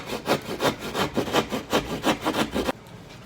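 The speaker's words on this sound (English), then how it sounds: "So I'm going to angle my saw away from the hole" Hand saw cutting drywall at an angle, a steady run of about a dozen rhythmic push-pull rasping strokes, close and fairly loud, ending abruptly into quiet room tone.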